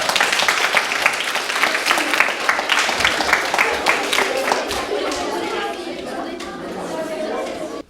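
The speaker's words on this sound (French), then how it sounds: "On va applaudir" A group applauding after a cube stacking exercise, with brisk clapping and overlapping chatter that thins out toward the end.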